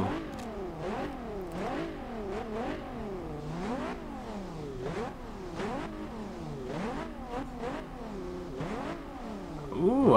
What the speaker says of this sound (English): see just what this twin turbo V6 sounds like